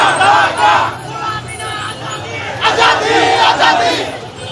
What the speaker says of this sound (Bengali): দিল্লি না ঢাকা, ঢাকা ঢাকা স্লোগান দিচ্ছেন এখানে যারা সাইকেল র্যালিতে যারা উপস্থিত আছেন।